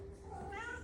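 A pet cat in a Paris home lets out one short, rising meow, faint and slightly nasal against a low background hum.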